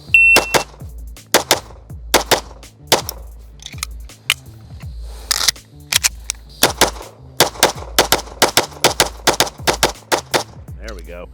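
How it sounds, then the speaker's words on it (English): Rapid gunshots from a Gibson Custom Guns 1911-style pistol fired at 5 yards on a range, a fast string of loud, sharp cracks in quick bursts with brief pauses between. "So we're gonna go to 5 yards and just blast away real quick"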